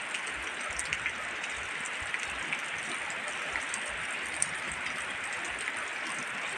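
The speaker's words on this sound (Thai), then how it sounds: "ฝนที่มากับลมหนาวช่วง ปลายฝนต้นหนาว" Steady rain hisses down evenly onto water, with dense patter and occasional louder drips, continuing unbroken throughout with no voices.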